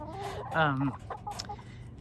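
Backyard laying hens, smaller and lighter than Buff Orpingtons, give a couple of close, loud clucks and a drawn-out squawk over quiet background noise.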